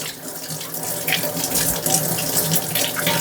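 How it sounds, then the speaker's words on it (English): Mangoes being washed one by one under a running kitchen tap, a steady close splash of water into the sink with small shifts as the fruit moves through the stream, no voices. "Wash them nicely one by one."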